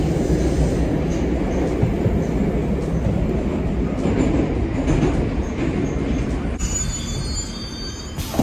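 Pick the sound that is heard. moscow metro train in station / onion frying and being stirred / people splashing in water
moscow metro train in station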